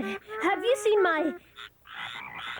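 Frogs croak in a house, a run of rhythmic, throaty calls followed by a rougher burst of croaking, close and fairly loud, with a voice partly mixed in.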